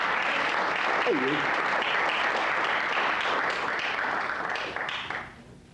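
Concert audience applauding steadily, a dense wash of clapping that holds loud for about five seconds before tapering off, with a brief voice cutting through early on.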